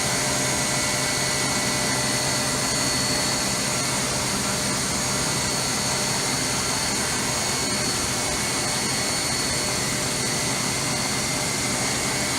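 A 2003 Hurco VM1 CNC machine runs its spindle at 3,000 RPM clockwise through a warm-up cycle, a constant whining hum with steady high tonal lines and broadband motor noise, unbroken and even throughout with no talk.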